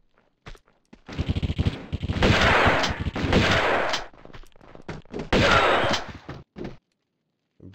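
Rapid bursts of Uzi fire from the PC game Tomb Raider II, two long loud rattling volleys separated by short pauses and scattered single shots and footstep-like thuds.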